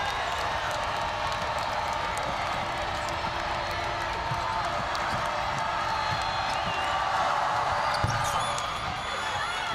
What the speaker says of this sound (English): And this crowd's starting to get involved.